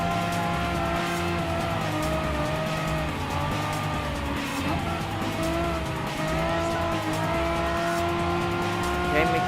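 Race cars in the video game Gran Turismo Sport, including a Volkswagen Scirocco Q4, roar steadily with engine tones rising and falling, tires squealing as one car overtakes another. Loud and continuous throughout.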